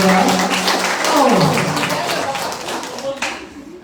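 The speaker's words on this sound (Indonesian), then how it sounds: "Tepuk tangan untuk beliau." Audience applause at the opening of a NasDem party restoration school in Merauke, a steady broad patter of clapping lasting several seconds and mixed with a host's voice speaking over the room.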